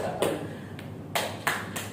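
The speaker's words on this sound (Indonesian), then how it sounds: "Tepuk tangan 3 kali." Three sharp hand claps ring out in an indoor group session, the first alone and the last two in quick succession, over faint room noise.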